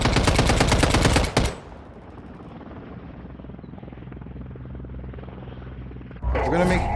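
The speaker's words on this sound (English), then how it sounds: "is that an attack chopper?" An attack helicopter in Warzone Mobile thuds with a rapid rotor chop alongside bursts of machine-gun fire, loud at first, then dropping to a lower rumbling hum before the loud racket returns at the end.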